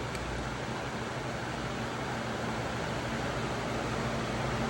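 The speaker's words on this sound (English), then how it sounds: "I'm sorry about the background noise. We've got the fans on." Electric fans run in a hot Texas workshop and fill the space with a steady, close broadband whoosh and a low hum that never changes, with no talk.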